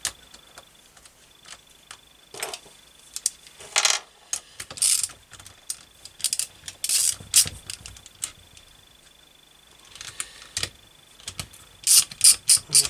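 A ratchet tightens bolts on a KTM SX65 engine during a rebuild, giving repeated bursts of quick metallic clicking with pauses between strokes and a few clinks of tools, close and clear with no voices.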